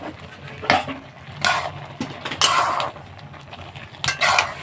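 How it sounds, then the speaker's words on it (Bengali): Spinach with turmeric stirred in a cooking pan, a few loud scraping strokes of a utensil against the pan in separate bursts, close by, with a faint sizzle underneath. "তো হলুদ দিয়ে একটু নেড়ে চেড়ে দিচ্ছি"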